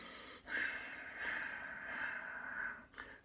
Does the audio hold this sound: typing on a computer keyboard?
no